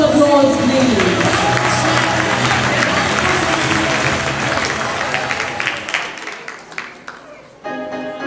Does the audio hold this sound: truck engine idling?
no